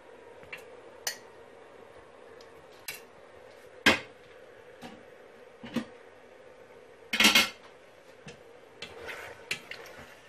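Chicken pieces go into a cooking pot for small chicken pastillas, making scattered knocks and clatters of metal and utensils at irregular intervals against a quiet kitchen background, with no voices.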